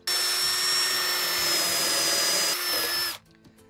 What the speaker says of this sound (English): next step is to drill the weep holes in the bottom so this thing can drain